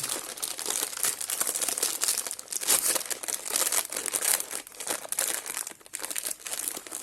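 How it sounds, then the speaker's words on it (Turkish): An Ülker Halley white chocolate marshmallow snack package is torn open by hand, with close, continuous crinkling and rustling of the plastic wrapper in irregular bursts. "Neyse diyelim ve paketimizi açalım."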